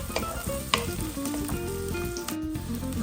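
Sliced garlic fries in a pan with a steady close sizzle, punctuated by a few sharp clicks and stirring sounds.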